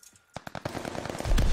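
Rapid MP40 submachine gun fire in Call of Duty Vanguard Search & Destroy, loud close bursts of shots in quick succession that build into a dense, heavy volley toward the end.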